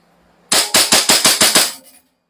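An airsoft gun with a fixed barrel fires a fast automatic burst of about seven evenly spaced sharp cracks, loud and close, cycling rapidly before a short tail fades out.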